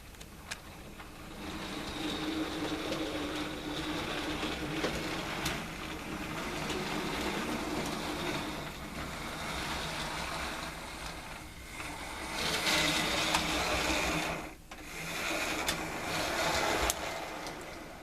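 Close-coupled Hornby BR maroon Gresley coaches are pushed in reverse up a model railway incline, giving a faint, steady whirring motor hum and light rolling rattle that goes on for the whole stretch with occasional small clicks.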